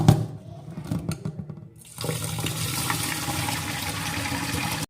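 A large cup of rice grains rattles and swishes in a bowl while being washed, then tap water gushes in loudly and steadily, filling and churning with no speech.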